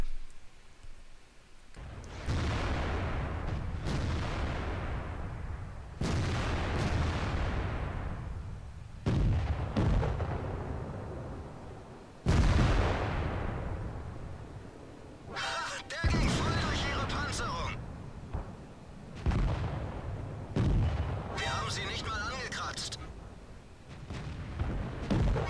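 Tank cannons fire in a World of Tanks-style video game battle, a series of loud heavy booms with long rumbling decays roughly every few seconds, plus harsher crackling impacts, under scattered talk.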